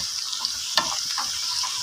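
Whole cumin and mixed spices fry in hot oil for daal, giving a steady broadband sizzle with a brief stir clatter near the middle.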